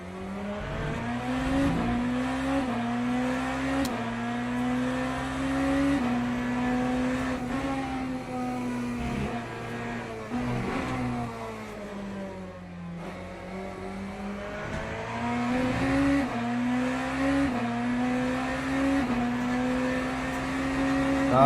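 Several race car engines roar continuously in the Le Mans Ultimate sim at the 6 Hours of Portimao, revving and shifting through gears as cars battle to overtake slower LMP prototypes, loud and sustained with rising and falling pitch.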